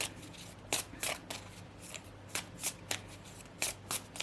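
Tarot cards being shuffled by hand, a quick series of crisp riffling bursts at an irregular rhythm, close and fairly quiet, with no talk.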